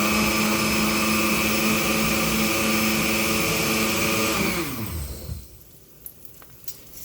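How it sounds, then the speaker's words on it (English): A kitchen blender whirs loudly and steadily for about five seconds, then winds down and stops, leaving quiet room tone. "So sorry about the noise, but I forgot to blend something before I started."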